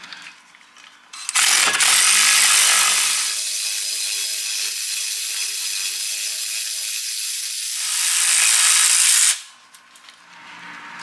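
A power tool works a nut off a custom drive shaft on a Mazda Miata drift car, giving a loud, sustained whirring buzz for about eight seconds that stops abruptly, with no talk.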